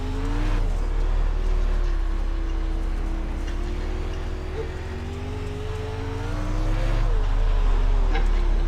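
A Pro Late Model race car in the iRacing video game drones through laps, its engine note holding steady with slight pitch dips and swells through the corners, loud and continuous.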